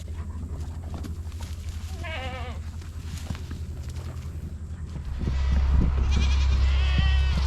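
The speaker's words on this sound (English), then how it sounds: "that's my flocks of goat coming in" A flock of goats bleats on a farm, scattered calls near and far, growing louder as the herd comes in, over a low wind rumble.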